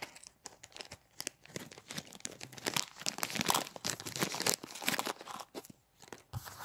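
Packaging being unwrapped up close, a continuous run of crinkling and crunching plastic with occasional tearing sounds, varying in loudness, with no talking.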